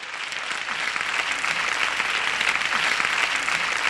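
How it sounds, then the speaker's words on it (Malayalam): A studio audience at a Malayalam television celebrity chat show applauds in a dense, even wash of clapping that swells slightly and holds steady for about four seconds, with no talking over it. "അവർ തന്നു കയ്യടി."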